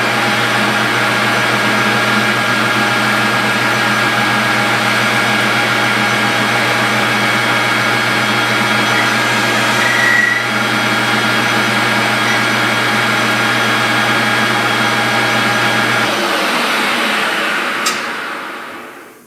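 A metal lathe knurling a workpiece with a shop-made scissor knurl tool: steady loud mechanical whine and hum running continuously, then the motor cuts out near the end and spins down.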